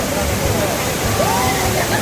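Constant roaring rush of a nearby monsoon-swollen waterfall at Pali fills the clip, with faint voices underneath.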